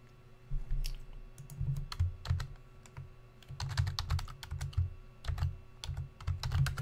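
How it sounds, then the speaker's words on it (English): Quiet clattering of fingers typing on a computer keyboard, coming in irregular bursts of keystrokes with short pauses between them, heard alone without talk. "There, I typed it for you."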